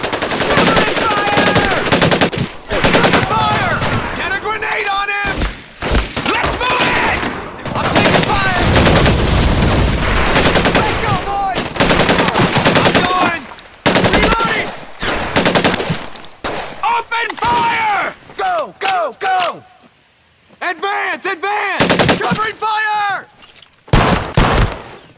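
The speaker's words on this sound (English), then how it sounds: "Suppressing fire!" Machine gun suppressing fire in the World War II shooter game Medal of Honor: Pacific Assault, loud sustained bursts of automatic gunfire overlapping with battle noise and shouted voices, continuing in waves throughout.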